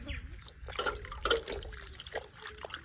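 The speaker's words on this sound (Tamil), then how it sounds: "இது என்ன பண்ணணும்னா தண்ணியில் அலசணும்" A cloth that has been rubbed on watermelon flesh is rinsed in water, giving soft sloshing and trickling splashes with a few brief drips, close and fairly quiet.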